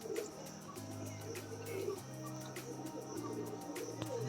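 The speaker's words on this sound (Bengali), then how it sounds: "পায়রাগুলো সব কিন্তু অ্যাগ্রেসিভ" Pigeons of a long-flying racing bloodline coo inside a breeding loft, their low, rolling calls repeating near and clear over scattered chirps and soft wing and cage noises, with no voices.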